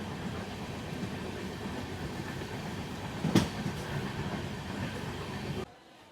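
Passenger train in motion heard from inside a crowded general coach on the Puri to Chennai route, a steady rumbling roar with a single sharp clank midway before the sound drops off abruptly.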